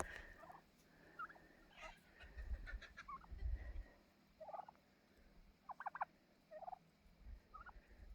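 Turkeys gobbling in bursts near a garden, with short rattling calls spread over several seconds against a quiet outdoor background.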